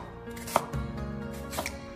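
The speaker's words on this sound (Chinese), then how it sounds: "然后再把洋葱给它改刀切成洋葱丝" A knife slicing an onion into strips about 0.3 cm thick on a board, a few crisp cutting strokes in quick succession, close and clear with no talk.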